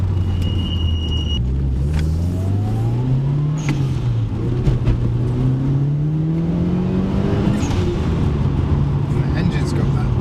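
A turbocharged Lancia Evo or Mitsubishi Evo rally car engine revs hard on the road, rising and falling in pitch through gear changes as a loud continuous drone heard from inside, with talk over it.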